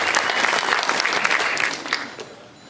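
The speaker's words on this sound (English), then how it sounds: "Round of applause for the high school jazz boosters." A crowd at a 2019 high school jazz spotlight concert breaks into brisk applause, dense clapping that fades out after a couple of seconds.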